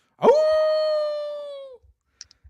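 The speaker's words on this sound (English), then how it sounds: "it is overshadowed by a series of long, mournful howls" A single long, mournful wolf howl, loud and close, holding a steady pitch and fading after about a second and a half, alone with a few faint clicks after.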